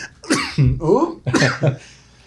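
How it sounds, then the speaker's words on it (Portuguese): Two rough bursts of coughing close to the mic, each a harsh broken fit, separated by a brief pause. "ele está tossindo muito"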